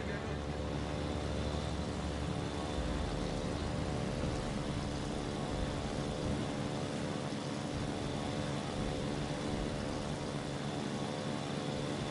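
Droning propeller engines of dive bomber aircraft in World of Warships Legends, a steady, moderately loud hum with a low rumble underneath, continuing without a break.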